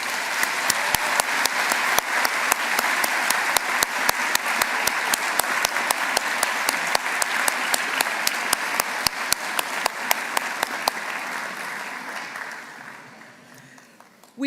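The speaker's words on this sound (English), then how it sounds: "I am sure that you would like to join me in thanking all of the university staff by giving them a huge round of applause." A graduation-ceremony audience applauds the university staff with sustained, dense clapping, steady and loud for about eleven seconds before tapering off; a few sharp individual claps stand out above the crowd.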